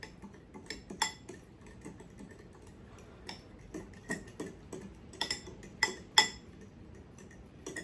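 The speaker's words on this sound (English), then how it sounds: "you're just gonna stir that all together" Raisin bun dough being stirred in a bowl makes soft, irregular scraping and tapping clicks, quiet and close, with a few sharper knocks of the utensil against the bowl.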